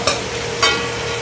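Crab frying in masala gravy on a low flame crackles steadily while being stirred, with two brief scraping strokes of the spoon over the continuous close sizzle.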